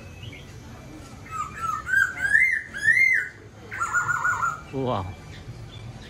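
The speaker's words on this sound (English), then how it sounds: "Look at that parrot, they are shouting." Parrots call loudly outdoors in the rain in Central Java, giving shrill, warbling squawks and whistles in bursts over a soft rain hiss, and someone speaks briefly near the end.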